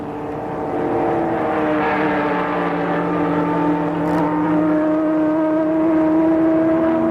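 Dan Gurney's blue Ford prototype race car accelerates at the 1966 12 Hours of Sebring, its loud engine roaring in sustained rising and falling tones with other cars' engines layered underneath.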